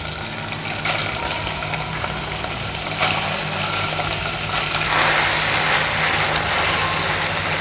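Cooked lentils sizzling in melted ghee: a steady, even frying hiss runs throughout with a low background hum and no talk.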